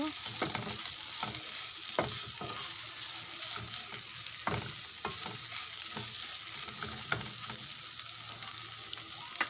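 Tawa kebab with a half bowl of coriander leaves sizzling steadily in a pan while a utensil stirs it, scraping and clacking at irregular intervals over a constant frying hiss, close and fairly quiet with no talk.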